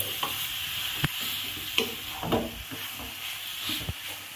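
Grated carrots for gajar halwa sizzle in a pan while a spoon stirs and scrapes through them. A steady frying hiss runs under irregular close scraping strokes, with no talk.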